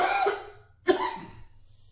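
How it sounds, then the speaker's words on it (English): Two harsh coughs, close and loud, separated by a short pause, the second sharper than the first, with no talking. "I feel a cough coming"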